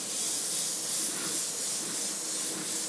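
An airbrush sprays a candy coat in a steady, close, continuous hiss of air and paint, unbroken and without any talking.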